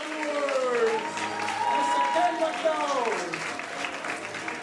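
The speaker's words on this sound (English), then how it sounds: "another round of applause for our host" A music awards dinner crowd applauds and cheers for the host, with steady clapping sitting under loud overlapping voices and calls throughout.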